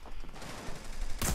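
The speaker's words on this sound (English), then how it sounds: "His teammate just shot him." Rapid automatic gunfire from a video game rattles in a dense, continuous burst, loud and close, ending in a sharper blast.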